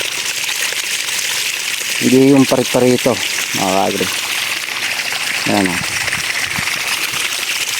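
Irrigation water gushes steadily from a PVC pipe in a calamansi orchard in Nueva Ecija, a loud continuous rushing flow close by while someone talks briefly over it.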